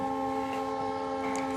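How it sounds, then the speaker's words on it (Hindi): A train runs along the Purnea–Saharsa broad-gauge line in Bihar, giving a steady, droning hum with faint rattling and no talk. "पश्चिम दिशा में ट्रेन मुड़ चुकी है"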